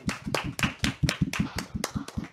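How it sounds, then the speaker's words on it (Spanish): Studio audience applause breaks out for a guest on a Catholic TV talk show, a steady burst of many hands clapping fairly close with quick, slightly uneven beats and no voices over it. "Un fuerte aplauso para él"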